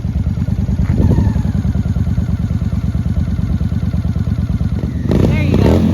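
A 2001 Honda VT750 motorcycle engine runs at a steady loping idle with a rhythmic pulsing beat, close and loud, then a brief rev near the end as people talk faintly.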